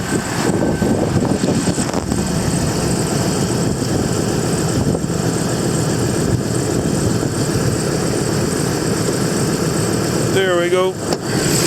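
A 2015 Ford Transit 350 diesel engine idles steadily at close range with a constant rumbling drone, while someone talks over it and a short squeak sounds near the end.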